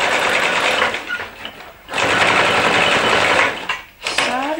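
Sewing machine stitching a hem with a twin needle all the way around a garment, running in steady loud bursts with two brief pauses where the motor stops and restarts.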